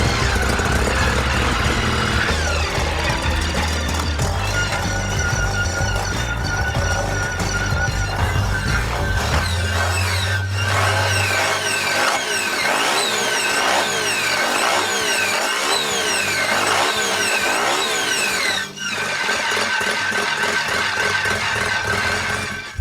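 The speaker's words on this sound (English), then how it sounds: "the engine revs up explosively and does not decrease until the cutoff" A rotary-engine motorcycle revs hard, pitch climbing and sweeping up repeatedly with a buzzing, saw-like whine, continuous and close with no talking.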